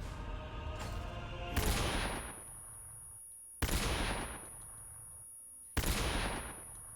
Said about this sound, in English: I'm gonna throw stun grenades.